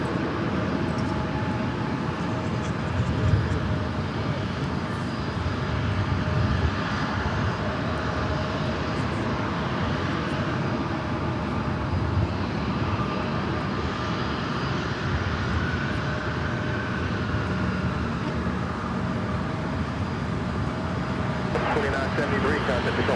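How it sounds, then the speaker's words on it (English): A Delta Airbus A319 arriving at LAX gives off a broad, steady jet engine roar that holds for the whole stretch, with voices talking over it. "We have a Delta A319, the next arrival."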